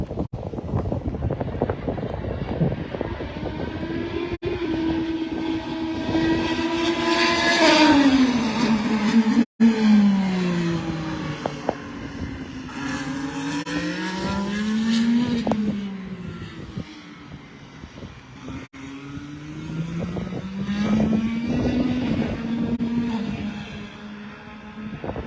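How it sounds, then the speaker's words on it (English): IndyCar race car testing a new hybrid engine at the Indianapolis Motor Speedway, its high-pitched engine whine rising and falling through repeated passes over about 25 seconds, with gusty wind on the microphone. "They're testing, I believe, the new hybrid engine."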